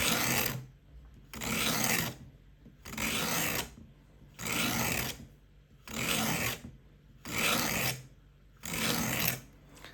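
A knife blade being drawn along a Work Sharp Guided Field Sharpener in seven even, rasping strokes about 1.3 seconds apart, each separated by a short pause, close and without talk.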